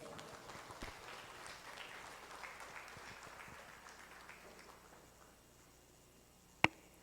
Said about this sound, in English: Let's all give Miss Francesca Casuay a big round of applause